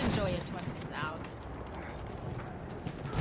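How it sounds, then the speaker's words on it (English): Horse hooves clip-clopping in the Battlefield 1 video game, a quiet, uneven clatter of hoof steps mixed with game noise while someone talks excitedly over it. "Horsey!"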